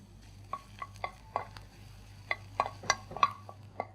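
Ginger dropped into hot ghee in a pan, with a handful of sharp metallic taps and scrapes from a spoon stirring over a faint low hum, close and with no talking.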